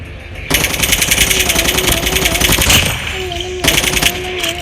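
Rapid automatic gunfire in the mobile shooter game Call of Duty Mobile, loud sustained bursts of rattling shots that pause briefly and resume, with tonal game effects underneath.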